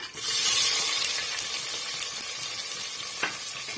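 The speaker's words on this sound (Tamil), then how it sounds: "கடுகு நல்லா வந்து பொரிஞ்சு வருது" Mustard seeds spluttering and popping in hot oil in a pan while cooking Bombay chutney, a steady close crackling sizzle with scattered sharp pops, no talking.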